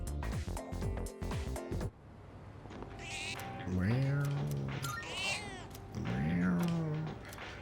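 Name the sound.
cat meowing and purring in Persona 3 Reload video game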